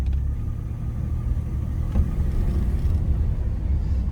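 A 1985 Jaguar XJ6 with its XK engine is driven slowly, giving a steady, fairly loud low rumble from inside the car, with a brief thump near the two-second mark and no talking.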